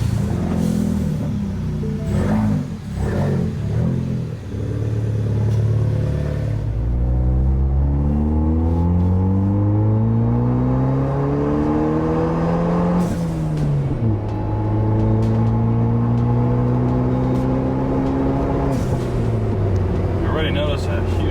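A Ford Bronco with a 2.3-liter engine and an aftermarket engine control module accelerates on a road test drive. The loud engine note climbs steadily through the revs, drops at a gear shift, then climbs again, with a steady rumble underneath throughout.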